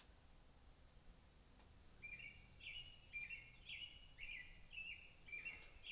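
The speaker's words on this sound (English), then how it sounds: "Oh yes, that's a very vocal bird." A bird sings outdoors after rain, a series of short bright chirped phrases repeating every half second or so, faint and distant against a quiet background.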